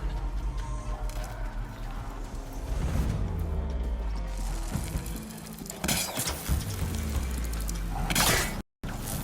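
A robotic machine collapses in Horizon Forbidden West, a mix of clanking mechanical crashes, shattering debris and whooshes that swell loudly toward the end before a brief dropout.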